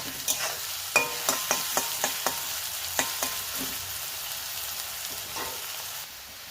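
Onions frying in oil with a pinch of salt, a steady sizzle under repeated sharp clinks and scrapes of a spatula stirring the pan in a quick rhythm, fairly close and moderately loud, with no talk.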